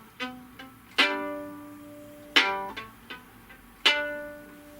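Solo violin sounds one strong accented note followed by three short, clipped staccato quavers, repeated in a loose pattern, with each attack ringing briefly in a quiet room.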